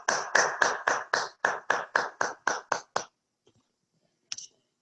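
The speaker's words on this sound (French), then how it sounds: "Sous vos applaudissements, s'il vous plaît." About a dozen separate, evenly spaced claps, close and crisp like one person over a Zoom call at a Toastmasters club meeting, stopping abruptly into near silence with one faint clap later.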